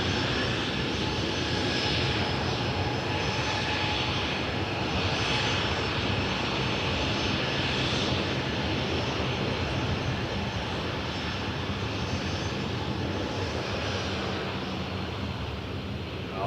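WestJet jet airliner taking off from runway 23 at Toronto Pearson Airport, a loud, continuous roaring engine drone that swells slightly in waves while holding steady throughout, with no talk.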